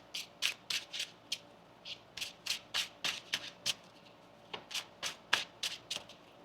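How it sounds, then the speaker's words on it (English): A deck of tarot cards shuffled by hand, with quick crisp riffles and flicks coming in rapid bursts, close and fairly quiet with no talking. "One more shuffle here."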